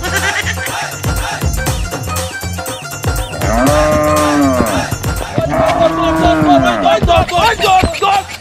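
A local cattle market with a cow that is being sold bursts with two drawn-out moos amid loud clatter, hurried footsteps and people's voices.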